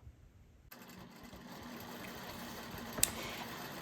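A sewing machine quilts a grid pattern across a sky-themed quilt, starting up after a quiet moment and running in a steady, fast, even stitching hum, fairly faint and close.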